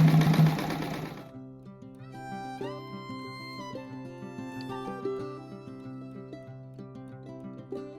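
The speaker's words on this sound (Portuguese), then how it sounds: "Agora eu vou costurar bem em cima, que dá um retrocesso." A domestic sewing machine stitches a fabric strip rug in a short, fast whirring burst, then stops and gives way to soft tonal music.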